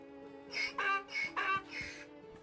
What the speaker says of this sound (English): Right, there's donkeys in this place.